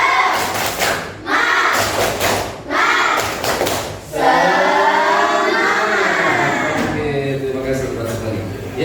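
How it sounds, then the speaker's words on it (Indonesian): A classroom of students performs a rhythmic spirit clap during a lesson, with bursts of group clapping in a patterned beat and voices chanting and talking over it, loud and close. "Tepuk semangat."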